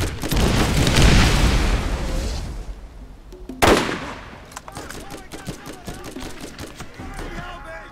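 Gunfire in Borderlands, opening with a loud roaring burst of automatic shots, then a sharp single blast followed by scattered quieter shots and clatter.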